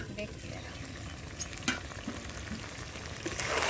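Chicken meat frying and being stirred in a pan during a village-style Bengali curry, a close, steady sizzle with occasional scraping and clinks, no talk.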